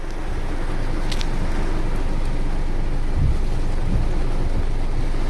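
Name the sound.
heavy monsoon rain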